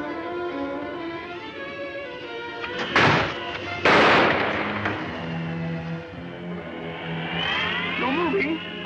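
Gunshots in a 1945 film, two loud, close bursts in quick succession midway through, set amid dialogue and a music score.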